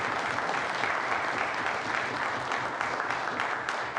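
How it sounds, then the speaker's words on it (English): Steady applause from legislators fills a provincial House of Assembly chamber after a member's statement honouring a man's life, a dense, even wash of clapping lasting several seconds with no voices above it. "Please join me in applauding the life of Brian Rich."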